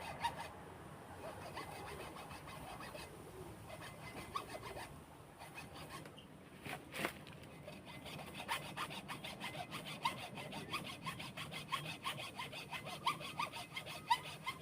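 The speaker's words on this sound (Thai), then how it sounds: "วางลงแล้วก็ตัดตัดตัด ไม่เหนื่อยครับถ้าทำแบบนี้ไม่เหนื่อยครับทุกคน" A hand saw works through bamboo stems in a garden, with rapid rasping strokes repeated close by at a quiet level and faint birdsong in the background.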